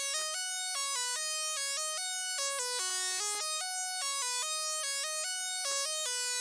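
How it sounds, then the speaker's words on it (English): Bright synth lead from a Space Group Serum preset bank, playing a stepping hyperpop melody with crisp, buzzy sustained notes, alone and steady in level. "The final melody I added was this lead from the Space Group Serum Bank"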